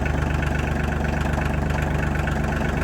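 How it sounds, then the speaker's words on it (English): Diesel truck engine idling at low RPM while warming up, a steady close rumbling chug with an even, pulsing knock and no voices. "Just kind of idling Bob until he warms up a little bit here"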